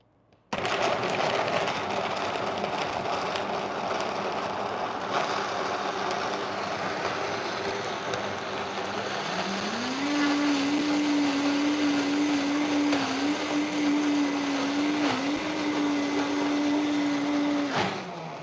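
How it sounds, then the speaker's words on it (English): A countertop blender whirs continuously while blending coconut and macadamia yogurt, a loud sustained motor drone that rises and steadies into a higher pitched whine partway through, with brief pitch dips before stopping. "Okay, we are blending."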